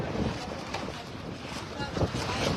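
Strong wind in Oroquieta City roars and buffets the microphone in a constant, dense rush with gusty swells, with voices faintly mixed into the blustery noise.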